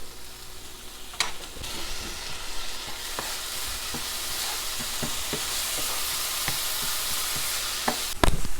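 Garlic sautéing in a pan for a cheesy asparagus casserole, a constant close sizzle with intermittent spoon scrapes and stirring knocks, loud and without talk.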